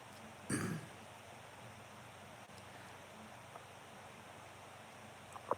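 A single short, rough throat-clearing cough sounds near the start, followed by quiet room noise and a faint click at the end.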